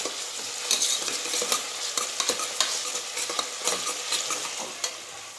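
Steady sizzling of onions frying in a pan for aloo gobi matar masala, with occasional stirring scrapes and crackles throughout, fairly close and moderately loud, no talking.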